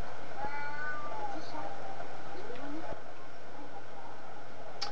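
Cat meows in the video game Alice: Madness Returns, a few faint cries under French-speaking voices and game background noise.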